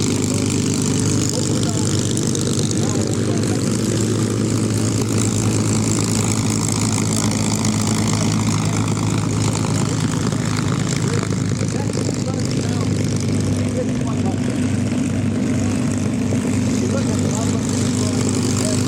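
Aircraft pass at the EAA AirVenture 2025 warbirds airshow, an L-39 formation among them. A loud, steady engine drone fills the whole stretch while voices talk underneath.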